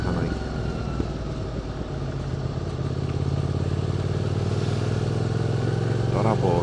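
A QJ SVT 650X motorcycle fitted with a new exhaust drones steadily and close up while riding, a dense continuous engine rumble with slight rises in throttle toward the end.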